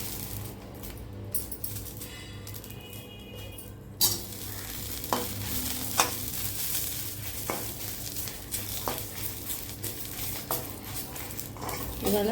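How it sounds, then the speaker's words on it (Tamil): Dried red chillies and curry leaves dry-roast in a bare kadai for puliyodarai, giving a steady low crackle with scattered sharp pops and stirring scrapes. No one speaks. "வெறும் கடாயில் தான் போட்டிருக்கேன், சரியா. போட்டு வறுத்துக்கலாம்."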